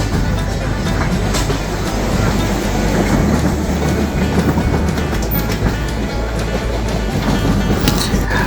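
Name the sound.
Chitra Express passenger train running on tracks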